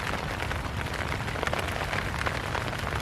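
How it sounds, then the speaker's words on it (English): Steady rain pattering on a tent at night during a winter campsite stay, a dense continuous hiss of drops on fabric heard from inside, close and even with no voices. "It's raining. Can you all hear that?"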